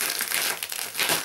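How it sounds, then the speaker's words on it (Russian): Bubble-wrap mailer bag crinkling while a parcel is being unpacked, a close, continuous plasticky rustle with brief louder crackles and no talking. "Упаковано все в пупырчатый пакет."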